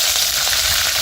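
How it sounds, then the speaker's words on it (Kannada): Mustard seeds crackle in hot oil for a sambar tempering, a brief loud burst of close sizzling and popping. "ಸ್ವಲ್ಪ ಸಾಸಿವೆ ಹಾಕೋತಾ ಇದ್ದೀನಿ. ಚಿಟಪಟ ಅಂತ ಇದೆ."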